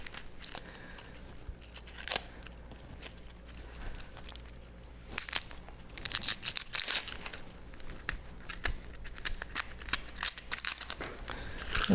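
Papery skin is peeled off an onion in a kitchen, giving close, irregular crinkling and tearing crackles in scattered bursts with quiet gaps between.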